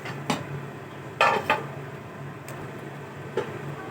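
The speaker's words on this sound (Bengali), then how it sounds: "এবার আমি ঢাকনা খুলে নিলাম" A metal lid lifted off a cooking pot of bottle gourd greens gives a few sharp clanks and clicks, near and moderately loud, spread over a few seconds against a low steady background hum.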